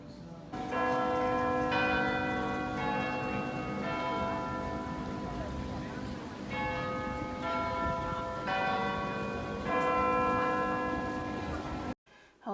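Church bells of Notre-Dame Basilica in Old Montreal peal steadily across an open plaza, overlapping tones ringing for the whole stretch over outdoor ambience, with faint talk nearby and a sudden cutoff near the end.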